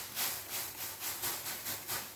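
Water misted onto sourdough bread dough sitting in a lidded cast-iron pot before baking, a string of soft hissing spray bursts in a steady rhythm, quiet and close with no voices.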